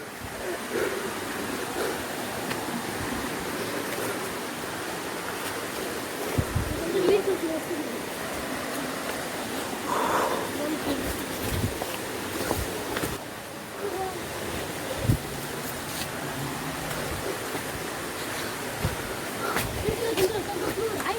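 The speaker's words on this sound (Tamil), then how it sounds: "தண்ணி போகிற சத்தம் கேட்குதா?" Water from a stream near Koraiyar falls flows over rocks in a constant, broad rushing wash, with occasional wind buffeting the microphone.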